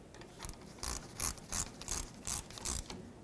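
A ratchet tightens a brake hose bolt into the rear caliper of a 2008–2010 Ford F-250, with about eight quick, rhythmic clicking strokes, close and fairly quiet.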